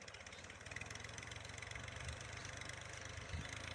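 Ghazi tractor diesel engine idling while it levels a flooded field, a faint, steady low chugging that runs throughout with no voices.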